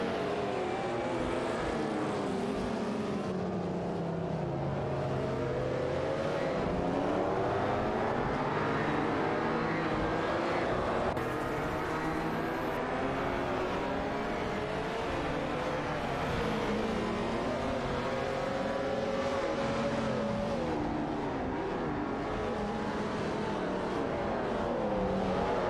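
Race cars in an AI racing simulation roar continuously, engine whine rising and falling through gear changes and overlapping cars, loud and unbroken throughout.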